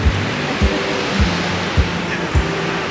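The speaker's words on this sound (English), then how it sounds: "It is the largest undammed waterfall in the state of Montana" Montana's largest undammed waterfall roars as a steady broadband rush of falling water, loud and continuous, with low rhythmic thumps pulsing beneath it.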